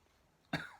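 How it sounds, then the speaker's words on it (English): A single sharp cough bursts out after a stretch of near silence, close and brief with a short trailing tail. "including coughing."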